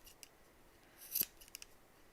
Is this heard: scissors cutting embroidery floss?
yes